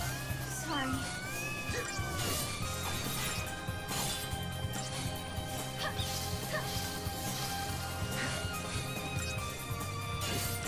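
Cat-like creature meowing in Final Fantasy XIII-2 battle, a short cry early on amid dense game music and combat effects, with a voice talking over it.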